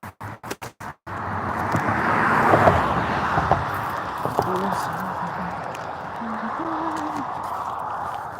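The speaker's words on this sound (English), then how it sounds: "And here's another car." Another car drives by near a bridge, a swelling road whoosh after a few sharp knocks at the start, with a voice talking over the passing noise.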